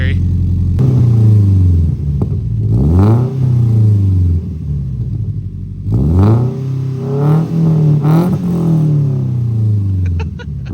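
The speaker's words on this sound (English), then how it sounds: "I have the ISR single exit catback exhaust" Subaru BRZ fitted with new headers and an ISR single-exit catback exhaust, revved repeatedly in rising and falling sweeps with a deep burbling idle between blips, loud and close, with people talking over it.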